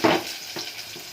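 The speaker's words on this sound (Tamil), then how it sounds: "இப்போ வெங்காயம், இஞ்சி பூண்டு, பட்டை, கிராம்பு, ஏலக்காய் எல்லாம் அதிலே சேர்ந்துக்கிட்டு" Onion, ginger-garlic paste, cinnamon, cloves and cardamom frying in ghee, a close, brief crackling sizzle with a stirring scrape, no voices.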